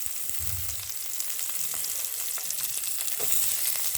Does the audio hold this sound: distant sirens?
no